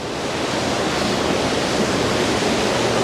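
Rushing water flows loudly and continuously, a dense, steady roar of a large river close by in Zonguldak, Turkey, with no voices.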